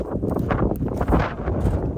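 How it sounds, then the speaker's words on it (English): Wind gusting across an exposed hilltop beside an old abandoned building, a steady loud rush buffeting the microphone throughout with rumbling low-end noise. "It's windy up here."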